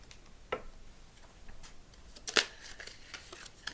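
Tarot cards handled and laid out on a surface for a reading, soft sparse slides and flicks with one sharper snap of a card partway through, close and quiet with no talk.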